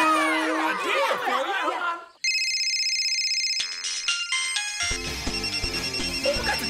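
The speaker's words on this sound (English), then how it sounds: "Turn that phone on silent." A mobile phone ringtone rings out loudly in a steady electronic melody, following a burst of close laughter and giggling.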